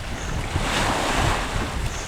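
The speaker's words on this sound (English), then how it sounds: "We were in those waves. Fighting those waves." Sea waves in the Bay of Fundy slosh and surge around a kayak, a rough, swelling wash mixed with wind buffeting the microphone, with no voices.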